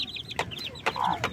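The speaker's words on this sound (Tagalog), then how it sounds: "So ito yung aking hen, basilan." A Basilan breed hen clucks softly nearby in a quick series of short, low clucks, with a slightly longer throaty note in the middle.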